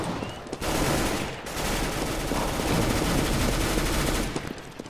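Sustained rapid gunfire in Counter-Strike: Global Offensive, loud and dense bursts running almost the whole time with a brief gap near the start, no talk over it.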